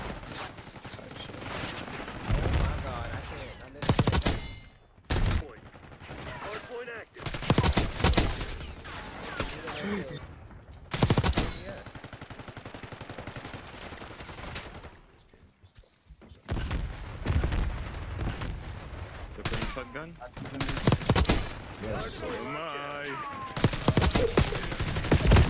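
Gunfire from Black Ops 6 multiplayer sounds in rapid bursts and rattling volleys between short lulls, loud and close. A voice talks intermittently over the shooting.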